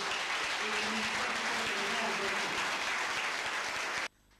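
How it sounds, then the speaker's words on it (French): An indoor hall crowd at a Gabonese political party rally gives loud, sustained applause for its loyal militants, with a few voices calling out over the dense clapping before it cuts off abruptly near the end. "je voudrais vous demander d'applaudir les militants fidèles de ce groupe"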